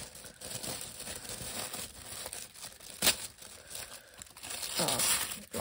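Paper packaging is torn and crinkled in short, close bursts, with a sharper rip near the middle and more crumpling toward the end; quiet overall, with no speech.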